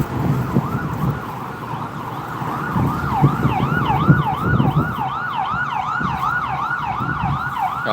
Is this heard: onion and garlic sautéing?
no